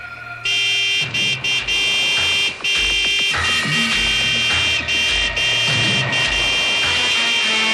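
A car horn blares in long, loud sustained blasts broken by short gaps, sounding repeatedly close by amid rumbling vehicle noise.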